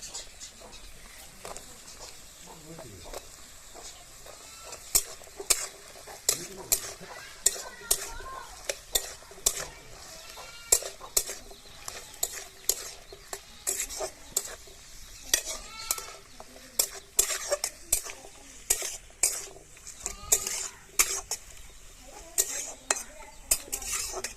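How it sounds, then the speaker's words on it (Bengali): Chopped pumpkin sizzles in hot oil with browned onions while a metal spoon scrapes and clacks against the pan in a steady stirring rhythm. Continuous frying hiss runs throughout. "কুমড়োটা কিছুক্ষণ ভেজে নিয়েছি।"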